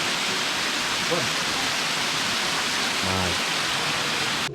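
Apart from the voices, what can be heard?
waterfall in a forest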